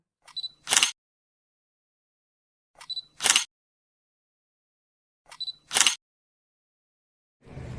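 Shutter clicks from the back camera of a Poco X6 5G smartphone taking photos, heard three times at even intervals, each a faint tick followed by a sharp shutter snap, close and isolated against silence, with a rustle at the end.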